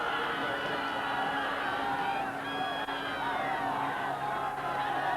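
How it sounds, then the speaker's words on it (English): Rowing supporters at a sprint regatta cheer and shout in a sustained, dense roar that stays loud and steady throughout. "Just listen to that crowd"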